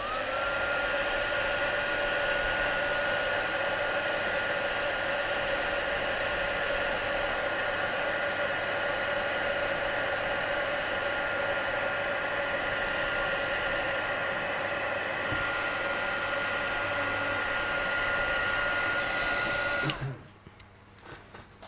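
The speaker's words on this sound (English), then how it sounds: "And then heat it up with a heat gun." A heat gun blows hot air over a handmade Stampin' Up! card, a loud, steady, close whooshing roar that runs unbroken for about twenty seconds before cutting off abruptly into quiet handling noise.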